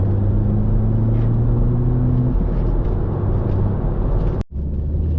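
An Audi S3 drives at speed with a steady loud engine drone and road rumble, pulling smoothly along, with one brief dropout near the end.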